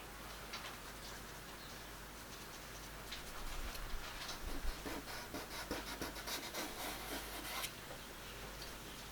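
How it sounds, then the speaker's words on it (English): A soft blending tool rubs over paper to work pigment into a painted chaffinch's background, giving a faint, steady scratchy rubbing with brief louder strokes in the middle and no talk. "Let's try with the soft blending tool."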